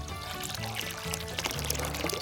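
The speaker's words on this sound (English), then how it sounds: "And look, water is coming out." Water pours from a watering can onto a tree on a farm, a steady splashing flow heard under bright background music.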